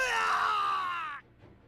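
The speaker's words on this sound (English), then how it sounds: "A blood-curdling scream shrieked in the distance" A distant blood-curdling scream in Hakuoki Edo Blossoms, a single long, shrill wail that holds steady for about a second then cuts off abruptly, leaving quiet.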